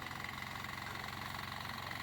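A tractor engine idles steadily at close range on a farm field where a school class is gathered, giving a constant low rumble with a faint rhythmic throb and no talk over it.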